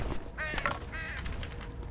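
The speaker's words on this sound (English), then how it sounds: "Oh, there was a bird back there." A crow caws a few times in the video game Condemned: Criminal Origins, a short harsh rasping series of calls at moderate distance over a low ambient background.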